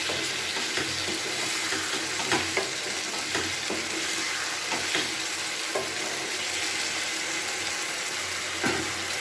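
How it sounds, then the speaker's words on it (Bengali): Bitter gourd and potatoes with spices fry in a pan with a steady sizzle, broken by intermittent scraping strokes as the mixture is stirred, close and continuous. "আবার 3-4 মিনিট আমি এটাকে ভালো করে ভাজা ভাজা করে নিচ্ছি"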